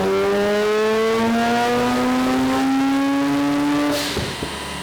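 A Mazda 13B rotary engine at 20 psi boost revs hard on a dyno, its loud, close buzzing tone climbing steadily for about four seconds before the throttle lifts and the pitch drops off.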